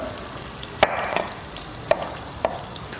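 Food sautés in a pan during preparation of borlotti bean preserves, giving a steady low sizzle with a few sharp clicks of a utensil stirring against the pan.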